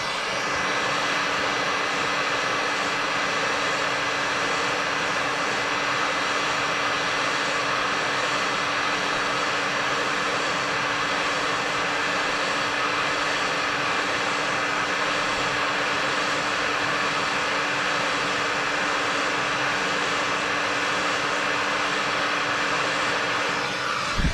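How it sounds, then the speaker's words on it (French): A heat gun blows hot air in a steady, loud, unbroken roar with a constant tonal whine, running alone without pauses while it warms up. "Donc décapeur thermique. On va le laisser chauffer."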